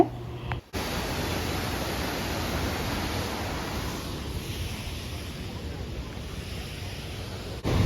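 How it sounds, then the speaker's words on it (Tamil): Waterfall pouring down at Johnston Canyon in Banff, a steady broadband rushing roar that fills the whole stretch, loud and close, with a brief dropout near the start. "எவ்வளோ அழகாக அந்த ஃபால்ஸ் வந்து கொட்டிகிட்டு இருக்குன்னு"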